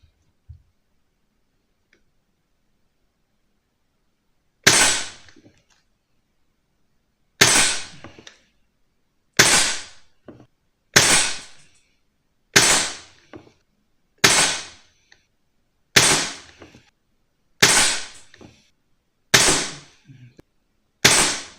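Nine sharp, snappy air rifle shots with a Black Ops Soul Langley silencer ring out one at a time at a 10 m target, spaced a couple of seconds apart, each loud and crisp against near silence.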